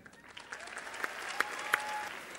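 Audience applauding a speaker as he steps up to present, a steady spread of clapping hands that swells slightly and stays even through the moment, with a few sharper individual claps standing out.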